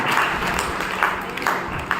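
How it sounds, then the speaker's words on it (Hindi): An audience at a health talk claps steadily, a soft, even wash of hands with a few brighter bursts standing out, and no voices over it. "अब तालियां बजाते रहिए"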